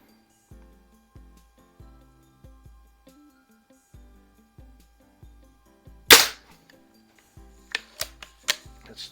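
A 1995 Daisy model 499B lever action Target Special BB gun firing, one sharp loud crack followed by a quick run of smaller snaps and clicks, after a stretch of soft repeated mechanical ticks.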